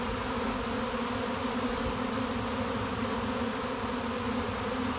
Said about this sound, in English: all of these groups of bees will move over